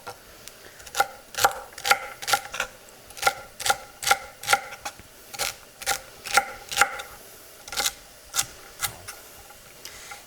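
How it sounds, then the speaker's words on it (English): A knife chops long vegetable strips into small cubes on a cutting board, a steady run of crisp, close taps in quick bursts with brief pauses, heard alone. "And then I will cut each one of those long strips into little cubes."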